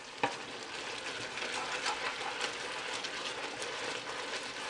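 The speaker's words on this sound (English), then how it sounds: "Stir everything together." Sweet and hot pork stir fry sizzles in a pan as it is stirred together with a thickening cornstarch sauce, a soft, steady frying hiss with faint scraping, quiet and close.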